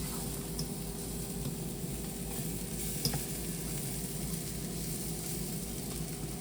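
Onion fries in a pan with spices, giving a steady, close sizzle throughout with an occasional faint tick or stir.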